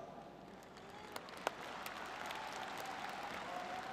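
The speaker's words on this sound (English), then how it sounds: "Everybody could feel the warmness and an incredible cheering of tribunes filled by students, families, and children" Audience applause and cheering from packed stands of students, families and children at the 2017 Winter Universiade closing ceremony in Almaty, a steady distant wash of clapping with a couple of sharper claps standing out.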